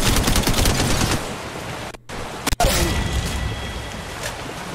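Rapid automatic gunfire in Apex Legends Mobile, loud bursts of dense shots broken by short pauses, with sharp single cracks in between and no talk.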